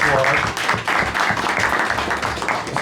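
Crowd applause at a Santa Claus parade in Brampton: a continuous wash of clapping from a group, with voices talking and a low hum mixed in beneath.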